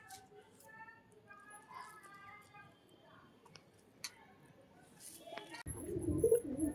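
Soft, low cooing from domestic pigeons, including a female bird, heard close and quiet indoors, ending in a burst of louder rustling and handling noise.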